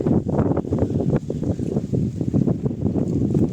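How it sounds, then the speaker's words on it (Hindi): Strong wind sweeps over open village fields, roaring and gusting hard against the microphone without a break, with no voices heard. "ऐसा लग रहा है जैसे मेरा फोन उड़ के गिर जाएगा, इतनी हवा चल रही है यहाँ।"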